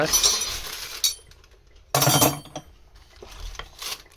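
Metal T-handle spark plug wrenches in sizes 8/10, 12 and 14 clink and clatter together in a few brief bursts, laid out for work on a Honda GL100 motorcycle engine bored up to 200 cc.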